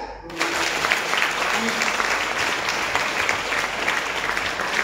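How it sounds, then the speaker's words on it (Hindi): Sustained applause from an audience at a network marketing seminar in Hindi, a dense, steady clatter of many hands lasting the whole stretch at even loudness. "एक बार ताली हो जाए।"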